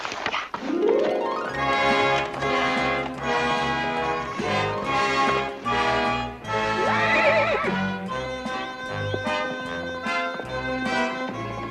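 A horse on a 1959 Western TV ranch gives a loud, rising whinny near the start, then a second neigh partway through, over a sustained musical score with faint hoof clops.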